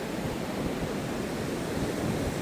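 Ocean surf breaks on a tropical beach, a dense, steady broadband wash of rushing water with no distinct individual crashes, fairly loud and uninterrupted.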